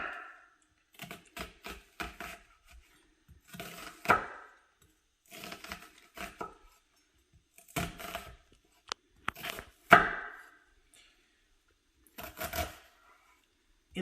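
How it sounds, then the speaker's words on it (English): A knife chopping through an onion on a cutting board, a run of sharp taps in irregular bursts with short pauses between them, close and fairly quiet. "And then chop the onion appropriately sized."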